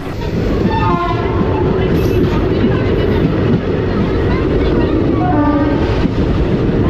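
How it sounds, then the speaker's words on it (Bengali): The Digha Fast Passenger train pulls out of a station, loud and close, its horn sounding in repeated blasts over a steady rumbling roll of the carriages. "আমাদের ট্রেন ছাড়লো, পরবর্তী স্টেশন তমলুকের উদ্দেশ্যে।"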